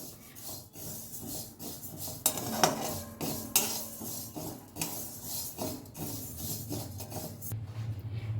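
Moong dal dry-roasts in a hot kadai with no oil, stirred with a metal spoon: close, uneven scraping and clinking of utensil on metal with the rustle of dry lentils shifting.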